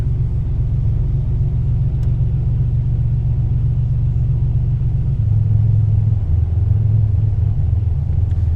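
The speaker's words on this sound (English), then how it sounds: "you hold down the test button and you wait till you hear the motor start to idle a little bit lower" A 1986 Buick T-Type engine idles close by with a steady low rumble, its pitch settling slightly lower partway through, with no voices over it.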